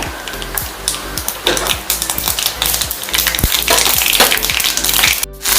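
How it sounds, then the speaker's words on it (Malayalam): Mustard seeds pop and crackle in hot coconut oil in a pan, a steady sizzle broken by many quick, sharp pops in irregular rhythm, close and fairly loud. "ഇനി കടുക് ഇട്ട് കൊടുക്കാം. കടുക് പൊട്ടി വരട്ടെ."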